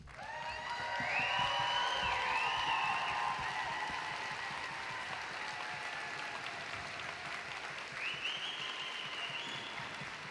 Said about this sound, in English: give the loudest applause you can to our CEO, Miss Connie Haynes